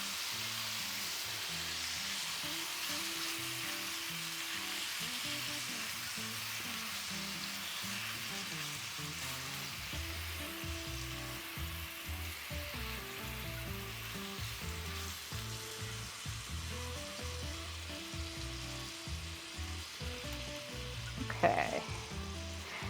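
Chicken pieces fry in a pan with a steady, crackling sizzle that carries on evenly for a long stretch, close up, with a brief clatter near the end.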